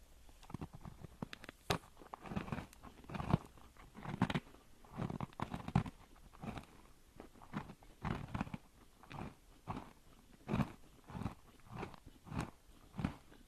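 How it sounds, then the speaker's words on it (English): Close, crisp bites and crunchy chewing on a cranberry orange pistachio cookie, irregular bursts of crunching repeating through the stretch in a quiet room. "And I'll take a bite."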